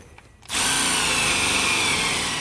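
A power drill drives a self-tapping screw with a ring terminal into the steel chassis frame of an RV. It kicks in abruptly and whirs loud and steady for about two seconds, with no talking.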